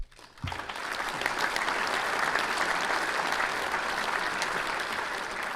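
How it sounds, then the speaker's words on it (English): Applause starts abruptly after a brief pause and carries on as a steady, even wash of clapping from a crowd, fairly faint and without talk over it. "give yourself a handy applause"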